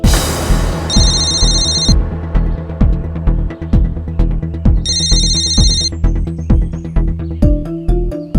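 A phone rings with a bright electronic ringtone in two clear bursts, loud and close, over a steady rhythmic background music bed.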